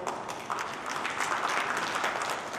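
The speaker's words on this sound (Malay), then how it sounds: "Jangan tepuk tangan dulu." An audience claps and cheers at a party political convention in a large hall, a steady dense wash of applause at moderate level with no gaps, heard throughout without a clear voice over it.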